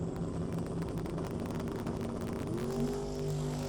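Drag race cars at a no-prep event, a conventional small block against a 302 Coyote-powered Mustang, launch with a loud, steady engine roar whose pitch rises midway as the cars accelerate, no talk over it.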